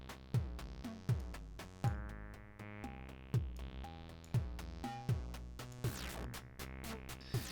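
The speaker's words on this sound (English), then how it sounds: "I've got this drum machine running through distortion because I think it sounds crunchy and good." A drum machine played through distortion for a crunchy tone, from a null-units synth engine: a steady looping beat of punchy kicks and snappy hits with a gritty, saturated edge, moderately loud and alone with no talk.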